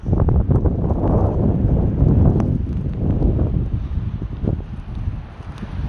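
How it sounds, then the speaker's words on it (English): Cold wind roars steadily across a microphone during a snow storm on a hike to the Inyo Crater Lakes, loud and buffeting with rustling gusts throughout. "It's cold up here and wind,"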